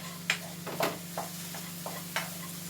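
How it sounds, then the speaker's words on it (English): Quick stir of a pan of creamy basil and chilli linguine, a handful of soft scraping and clinking strokes spaced irregularly over a faint steady hum, close and quiet, no talk. "Quick stir."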